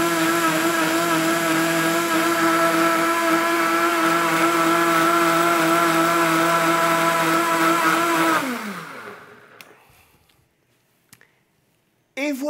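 A loud blender purees vegetables for a coulis, running steadily for several seconds, then winding down and stopping, leaving near silence with a few small knocks.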